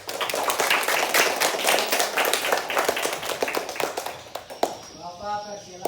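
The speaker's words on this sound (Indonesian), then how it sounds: "beri tepuk tangan untuk kelompok 1" Classroom audience clapping for the first student group, a dense burst of many hands that thins into scattered claps before fading out.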